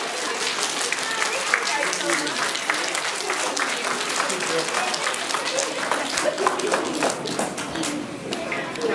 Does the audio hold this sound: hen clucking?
no